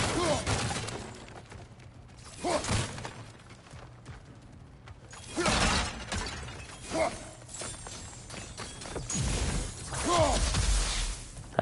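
Objects smash and shatter in God of War Ragnarok, several loud crashing bursts spread across the stretch with debris scatter between them and a voice talking now and then.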